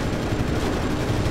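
Enemy gunners fire on a plane in IL-2 Sturmovik: a brief, dense, loud rattle of gunfire with no break and no talking.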